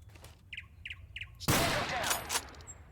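Gunfire in the Total Conflict: Resistance video game: one sudden loud blast breaks over a quiet backdrop of faint chirping birds, followed by a short rattle of further shots.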